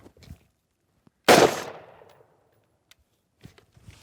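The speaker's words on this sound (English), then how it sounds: "We'll fire a single shot from the snap to our target downrange." A single gunshot from a snap shot fired at a target downrange on a shooting range, one sharp loud crack with a fading tail, followed by quiet and faint clicks.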